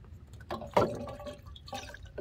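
Fuel additive trickles and gurgles faintly as it is poured into a car's fuel tank, with soft irregular liquid splashes and a brief louder glug.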